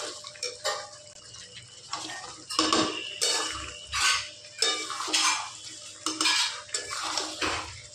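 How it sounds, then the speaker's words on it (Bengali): Chicken with fried peas and potatoes stirred in a metal pan for a pea and capsicum chicken curry, with repeated close clinks and scrapes of a spoon in bursts over a low, wet background. "এবার ভালোভাবে এটা চিকেনের সাথে কষাবো বেশ কিছুক্ষণ"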